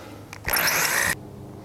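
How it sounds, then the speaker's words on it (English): Power drill with a 5/16 bit boring through a support bar on a 2007 Ski-Doo REV 159 snowmobile tunnel, a single loud high-pitched whine lasting under a second, preceded by a brief click, against steady background noise. "and drill your hole"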